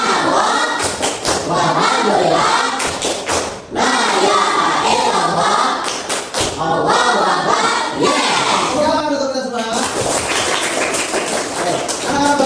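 A class chants a rhythmic clapping cheer together loudly in a steady rhythm, punctuated by bursts of clapping, with a brief pause partway through before the chant resumes.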